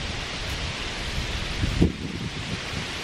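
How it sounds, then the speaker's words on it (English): Strong wind blowing hard outdoors in deer-hunting country, a steady broadband rush with a brief louder gust near the middle. "the wind's blowing really hard"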